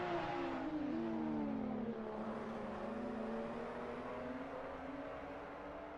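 Several BMW M2 race cars lapping Imola in a racing sim, engines holding a steady, sustained drone that rises slightly in pitch and then settles, with no break and no voices.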